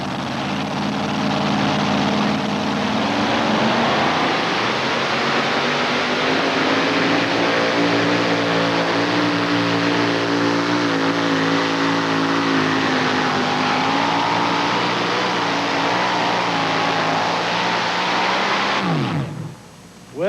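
A little Chevy S10 pickup competing in a 1989 NTPA truck pull at Columbus, Ohio roars at sustained full throttle for about nineteen seconds, loud and strained with shifting engine pitch, then cuts off abruptly at the end.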